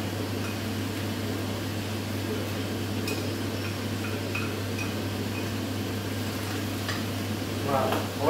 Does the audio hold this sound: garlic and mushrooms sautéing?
yes